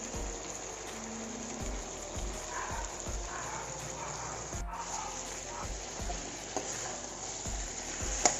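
Broiler chicken sizzles in oil as cumin, chili and coriander powder are stirred through it. A steady frying hiss is broken by regular stirring scrapes, with a constant insect-like chirping drone behind it.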